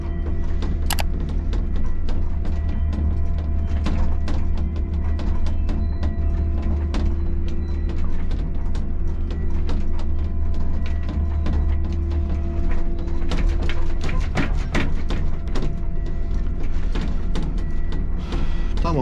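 A small crane working during an unloading job, giving a continuous low mechanical hum with irregular clicks and ratcheting clatter, steady and fairly loud, with busier rattling toward the end.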